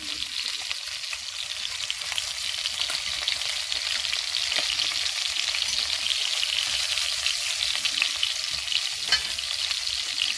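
Pieces of guinea fowl brown in a frying pan, sizzling steadily with a bright, constant crackle of hot fat, close and moderately loud, with a few faint pops and no talking.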